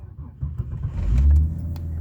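A 1994-1998 Ford EF/EL Falcon car engine cranks and starts up close by, its low rumble rising to a brief rev before settling into a steady idle.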